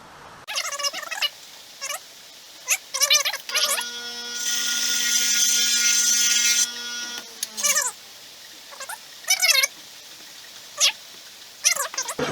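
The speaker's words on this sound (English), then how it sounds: "This file's a little coarse." A file rasping across a chainsaw chain in repeated short strokes, close and fairly loud, with a longer steady grinding stretch in the middle.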